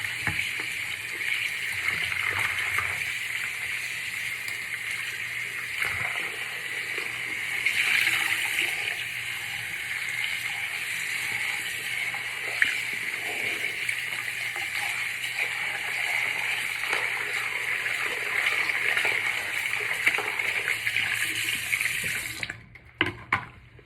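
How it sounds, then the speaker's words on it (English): Water running steadily from an indoor tap to rinse bleach from hair, a continuous close hiss and splash that holds for over twenty seconds before cutting off abruptly near the end. "And I'm gonna rinse it off."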